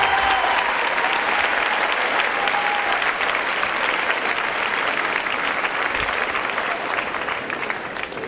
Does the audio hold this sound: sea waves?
no